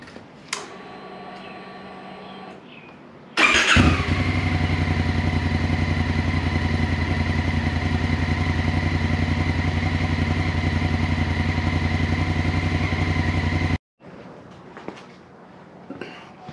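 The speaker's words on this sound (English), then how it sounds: "Now we're going to start the engine, and we're gonna let it run for about 2 to 3 minutes." A Honda Africa Twin motorcycle engine cranks and fires, then settles into a steady, loud, close idle for about ten seconds before cutting off, with quieter workshop ambience around it.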